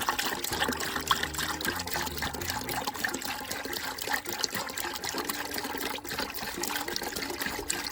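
Liquid is poured into a gallon container of homemade farm fly bait and stirred, a continuous splashing trickle close by with occasional knocks, loudest near the start.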